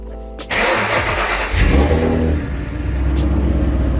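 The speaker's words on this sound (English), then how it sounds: "we'll turn the car on real quick" A Ford Falcon XR6 Turbo or XR8 car engine cranks and catches, then settles into a loud, steady rumbling idle close by.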